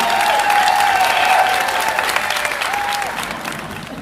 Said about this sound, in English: give these ladies a huge round of applause